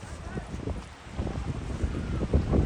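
Strong wind on a hilltop buffets the microphone, producing a continuous low, rough rumble that rises and falls in gusts, loud and close throughout.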